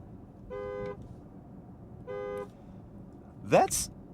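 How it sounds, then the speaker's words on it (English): Two short, clear horn toots from a 2026 Porsche Macan EV GTS sound one after another with a gap between them, followed by a brief louder burst of noise. "What if someone is driving recklessly on the road and you need to alert them to their error via horn? What will they hear?"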